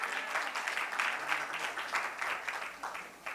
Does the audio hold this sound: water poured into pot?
no